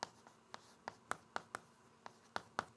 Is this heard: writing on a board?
yes